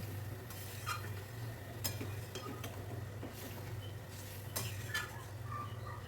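A spoon stirs rohu fish curry with cauliflower and potato after hot water is added, giving faint scraping clinks against the pot over a low simmering hiss and background hum.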